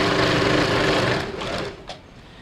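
A sewing machine stitches a simple blouse in one steady mechanical whir, close and fairly loud, then slows and stops with a small click near the end.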